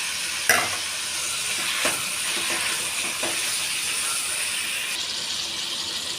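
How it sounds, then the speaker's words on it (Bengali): Ginger garlic paste and tomato frying in a pan for a pumpkin and tilapia fish curry, a loud close steady sizzle with a few stirring scrapes, no voices. "আদা রসুন বাটা টমেটো দিয়ে দিলাম"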